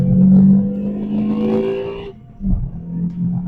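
A Renault Twingo RS engine under throttle while driving, a loud close engine note rising then dropping off briefly before picking back up again.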